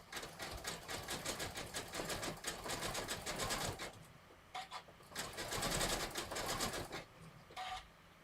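A sewing machine stitches a rope handbag in rapid, buzzing bursts, running steadily for about four seconds, then stopping and restarting in short runs, close and clear.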